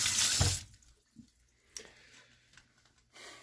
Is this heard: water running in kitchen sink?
yes